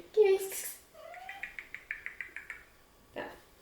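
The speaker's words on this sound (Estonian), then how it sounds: "Ja meil on kass." A pet cat indoors gives a short, clear meow near the start, followed by a run of quick chirping calls and one more brief cry, with soft speech nearby.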